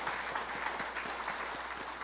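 A church congregation applauding during a year-end service. Steady, even clapping from many hands continues throughout at a moderate distance.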